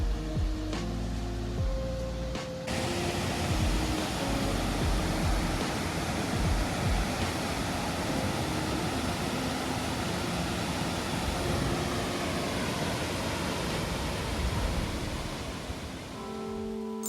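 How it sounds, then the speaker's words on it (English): A forest waterfall roars steadily, a dense broadband rush of falling water that stays constant and close throughout, with a faint tonal sound at the very start. "like this waterfall"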